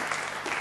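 A brief burst of audience applause for a jazz singer in a television studio, a dense, even wash of clapping that lasts only a moment.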